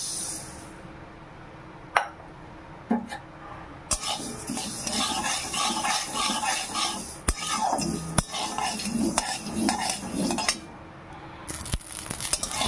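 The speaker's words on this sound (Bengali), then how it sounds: "সরিষাগুলো দেখুন চটপট করে শব্দ হচ্ছে।" Mustard seeds dry-roasting in a pan, with a steady crackle and rustle broken by sharp clinks and scrapes of metal on the pan, loud and close throughout.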